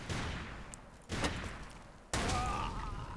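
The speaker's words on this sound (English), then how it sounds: "I got my second weapon, by the way. It's semi-auto, so I can shoot much" Semi-automatic gunfire in the Ace of Spades video game, a few sharp separate shots with noisy decaying tails, moderately loud and spaced irregularly.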